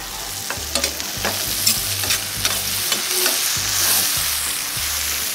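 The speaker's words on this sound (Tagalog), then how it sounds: "Yan, durugin mo yung tomato." Tomatoes crushed in a pan with fish and basil, a close sizzle of frying under repeated scraping and pressing strokes of a utensil against the pan, in short uneven bursts.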